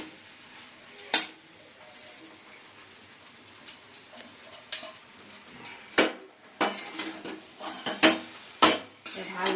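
Paneer being stirred into chana masala in a pan, with a spoon scraping and knocking against the metal in irregular clinks and clatters and a faint sizzle underneath, close and fairly quiet.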